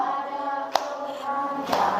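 At an elementary school gathering in Kebumen, people sing together while a couple of sharp hand claps land about a second apart beneath the sustained melody.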